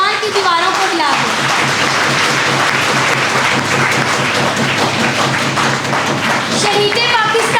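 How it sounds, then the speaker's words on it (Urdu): A youth assembly in Lahore rises to applaud its newly elected speaker, with loud, sustained clapping that fills the hall throughout and brief voices cutting through near the start and end. "اپنی نئی اسپیکر کا استقبال کھڑے ہو کر تالیوں کی اس گونج میں کریں"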